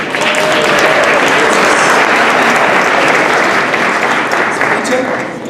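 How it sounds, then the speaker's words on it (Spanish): An audience at an evening talk event applauds loudly and continuously, a dense wash of clapping that holds steady and begins to fade in the final moments. "Ahora un aplauso gigante."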